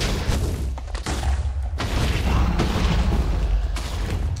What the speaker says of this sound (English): You can shoot enemies with lasers.